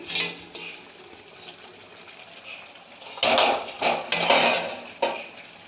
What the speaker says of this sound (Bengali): দেখুন বন্ধুরা, আমি আবার ঢাকা খুলছি।